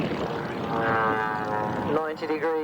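Propeller aeroplane flying inverted at an autumn airshow at Duxford, a steady droning engine tone rising and sustaining throughout, with a commentator talking over it.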